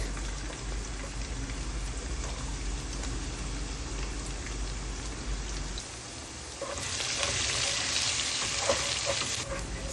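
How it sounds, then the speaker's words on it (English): Onions and chopped garlic stir-frying in a saucepan give a steady, close crackling sizzle that grows brighter and louder toward the end, with no talking. "Stir fry till it's almost golden brown."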